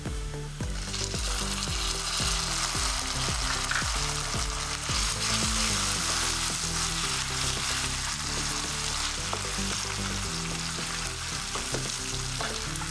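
Finely chopped tomato going into browned onion frying in a pan for Kolhapuri misal, a loud continuous sizzle with repeated stirring scrapes and knocks throughout.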